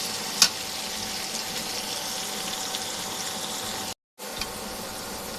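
Cumin and dried red chillies sizzle steadily in hot oil in a home kitchen while being stirred, a constant close crackling hiss that briefly cuts out near the end.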